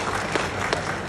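Applause at a graduation ceremony for newly graduated students, a steady dense wash of clapping throughout with no talk over it.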